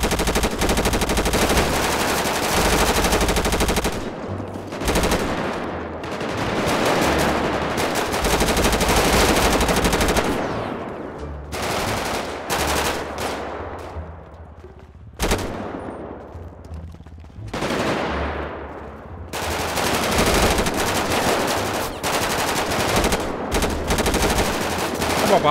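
Sustained machine gun fire in a GTA 5 roleplay firefight, loud bursts running nearly continuously with a few short breaks, rapid repeated shots filling the scene.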